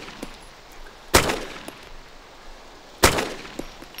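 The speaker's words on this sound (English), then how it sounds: "Who's that shooting? It's me." Two loud, close gunshots from DayZ, spaced about two seconds apart, each a sharp crack with a brief echoing decay, with quiet ambient clicks and small sounds in between.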